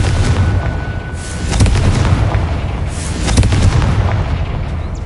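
In Hogwarts Legacy, a Confringo fire spell bursts amid a loud, dense game soundscape of booming explosions and crackling blasts that layer over a constant rumbling roar.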